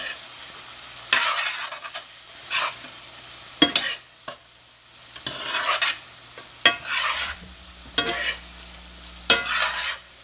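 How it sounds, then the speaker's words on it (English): Garlic powder and onion powder sauté in a pan, heard as repeated bursts of utensil scraping and stirring over a faint, low sizzle, close by and without talk. "garlic powder, onion powder, and we're going to let this saute and cook"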